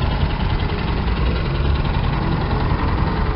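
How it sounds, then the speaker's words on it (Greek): A steady, close rumble from an Athensville 250 motorcycle engine idling, even and continuous throughout with no voices. "Athensville 250. Ωραίος ήχος, έτσι."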